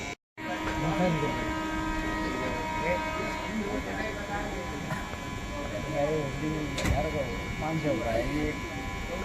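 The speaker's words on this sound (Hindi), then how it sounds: "कोई ट्रेन आ रही ओवरटेक करने" Rumbling and clattering of a train on the rails, heard from aboard a MEMU, as another train comes up to overtake. The noise stays steady and continuous, with tonal horn-like hums and one sharper clank near the end.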